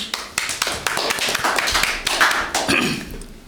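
Audience at a school talk show clapping in a loose, uneven patter of separate claps from a small group, fairly close, with some murmuring underneath.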